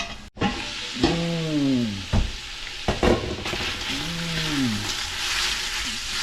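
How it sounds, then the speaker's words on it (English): Steady sizzling of beef sausage frying in a pan, loud and continuous, with a few clinks and stirring scrapes breaking through. "Let it sizzle."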